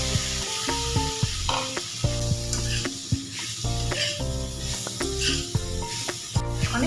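Pointed gourd fried and stirred in a pan after spices cooked down with a little sugar, a continuous sizzle with spatula scrapes, partly masked by prominent background music.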